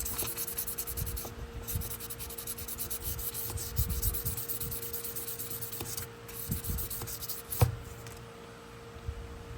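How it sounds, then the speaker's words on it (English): Knife blades are sanded by hand with 800 grit sandpaper, giving soft, repeated rubbing strokes that rasp close by at an uneven rhythm and include a sharper scrape near the end. "using the 800 grit sandpaper, just to kind of get some of that buildup off"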